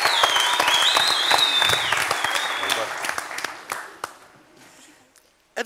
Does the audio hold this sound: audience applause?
yes